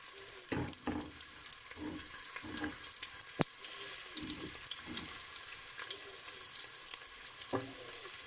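Garlic sautéing in hot cooking oil for a chicken macaroni dish, giving a steady close sizzle with a few stirring clatters and one sharp click, and no talking.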